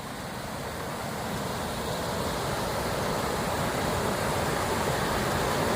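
A riverside waterfall roars as a dense, steady broadband rush of falling water, loud and continuous, with no voices.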